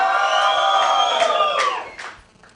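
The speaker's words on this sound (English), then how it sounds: "Let me hear you scream" A standing crowd at a concert in Zimbabwe screams and cheers loudly and steadily, with whoops rising over the roar before it fades toward the end.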